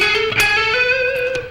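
Electric guitar lick played high on the neck, a quick run of notes on the third string sliding up; a bright, clean-to-slightly-driven single-note phrase with a sustained ringing tone, heard up close and alone.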